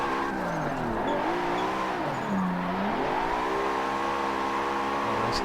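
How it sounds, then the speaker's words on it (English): An ESDA drift car in a racing sim video game, its engine droning and swooping in pitch with a sustained tyre squeal as it slides through a corner, loud and continuous. "Oh, those tyres are roasting."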